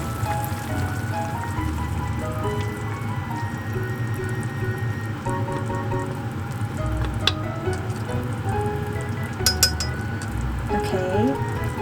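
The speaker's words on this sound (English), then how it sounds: "Let's add the egg to this" An egg fries in a pan with a continuous close sizzle, joined by a few light clinks of glass or utensils and a background hum, and a voice speaks faintly.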